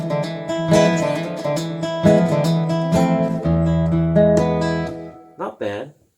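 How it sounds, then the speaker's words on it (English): An electric guitar run through a Fender Smolder acoustic pedal, set for only a piezo-style nylon-string tone, plays a picked melodic phrase of ringing notes up close. A voice briefly starts talking at the end. "just so you only get the nylon string sound"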